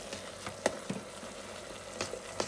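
Chicken escalopes with shallots frying in a pan, with a low, steady sizzle and scattered light utensil knocks and scrapes as they are stirred, nearby and with no speech.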